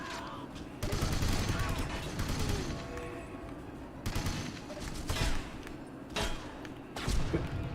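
Rapid gunfire from a PS2 shooter game as two full magazines are emptied, dense bursts of automatic shots with heavy thuds, continuing in loud clusters with brief pauses between volleys.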